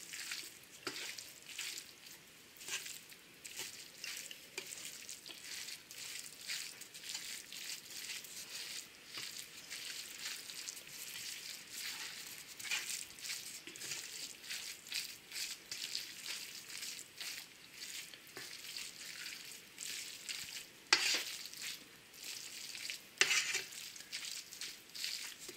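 A cheese and spinach filling is stirred in a pan, giving a faint, continuous sizzling and scraping that runs steadily throughout, with a few sharper clicks of the utensil against the pan and no talking.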